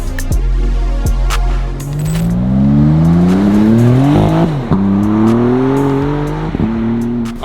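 A Maserati MC20 supercar drives past loudly, its engine note rising through several revving pulls with brief dips between gear changes, close and dominant with no talk.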